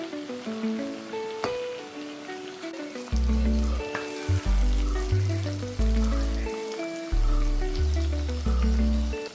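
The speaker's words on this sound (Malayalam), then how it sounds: "അപ്പോൾ ഇതെല്ലാം നമുക്കൊന്ന് വറുത്തെടുക്കാം." Chicken pieces deep-fry in hot oil with a soft, steady bubbling sizzle, partly masked by louder background music with a pulsing beat. No one speaks.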